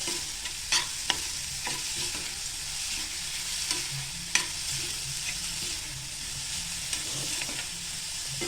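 Finely chopped onion sautés in a pan for butter masala pav, a continuous close sizzle broken by repeated clicks and scrapes of a stirring spoon against the pan, with no talking.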